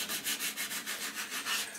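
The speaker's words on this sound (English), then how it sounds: "I've been using 120 grit sandpaper to distress it and get rid of all the lumps and bumps" Rhythmic back-and-forth scratching of 120-grit sandpaper on painted wood of a drinks cabinet, quick even strokes repeating about eight times, close and fairly quiet.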